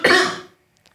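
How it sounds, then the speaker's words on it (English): A single loud cough bursts out close by, then fades, followed by a faint soft sound and silence. "I'm going to cough"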